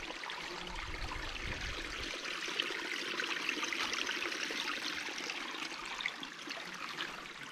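Clear stream water flowing beside a balete tree, a steady broadband rushing and trickling that holds constant throughout, close and fairly loud with no voices.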